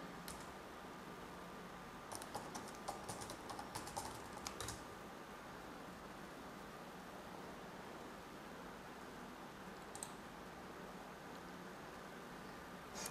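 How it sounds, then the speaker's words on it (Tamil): Quick light keyboard taps in a burst of a few seconds, then a short second flurry later, faint against a steady hiss of room noise, while typing on a mobile phone. "ஏதாவது டைப் பண்ணுறேன்."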